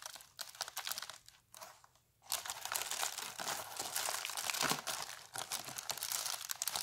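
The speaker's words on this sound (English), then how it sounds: "let me open it and show you what is inside." Cardboard Amazon package being opened up close, with loud continuous crinkling, crunching and tearing of packaging that pauses briefly near the start, then resumes steadily.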